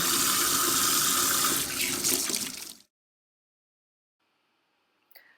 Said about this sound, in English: Wash your hands very well before you touch the scoby.